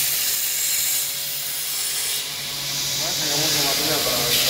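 An electric sander grinds a metal blade with a steady, loud abrasive hiss and rasp that shifts in pitch as pressure changes, continuous throughout.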